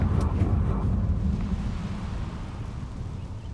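A Bombarda or Confringo spell in Hogwarts Legacy sets off a single deep, rumbling explosion. Its sharp onset swells loud and then trails off into a long, fading low roar.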